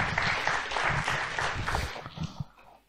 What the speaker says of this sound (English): Can you give him a round of applause,